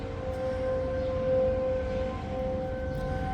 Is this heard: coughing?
no